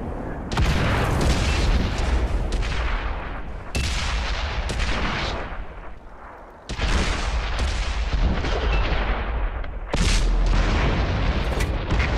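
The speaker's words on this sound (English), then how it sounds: "Gun loaded. Fire!" M44 self-propelled artillery gun in the tank combat game World of Tanks firing, several heavy booming blasts with long rumbling tails, loud and close, one shot following another with short pauses between them.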